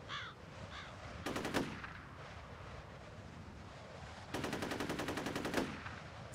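A crow-like bird in the horror shooter game F.E.A.R. caws in two loud, rapid bursts of harsh calls, the first brief and the second longer, over a steady low ambient drone with no talking.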